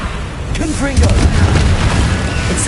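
In the Hogwarts Legacy video game, a Confringo fire spell bursts with a deep, rumbling boom that swells after the first second and rolls on through the rest of the clip.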